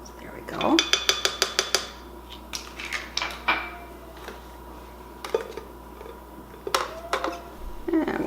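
Clinking of a utensil against a dish or glass as plain raspberry yogurt, ice cubes and a teaspoon of beet powder are stirred together; a quick run of sharp metallic taps, then scattered clinks and scrapes at close range.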